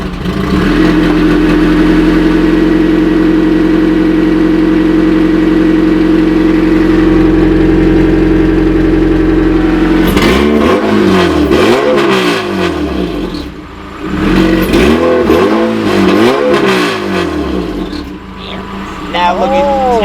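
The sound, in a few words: Integra car engine running and revving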